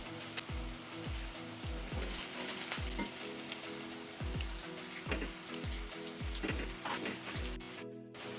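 Sliced bitter gourd sizzles in a covered pan while being flipped, a steady close frying hiss broken by a rapid series of soft thuds and scrapes from the turning.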